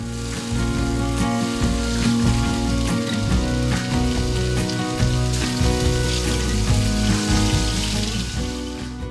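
A toastie sizzles on a silicone liner atop a diesel cooker, a steady loud crackling fry with dense popping, close and continuous with no speech.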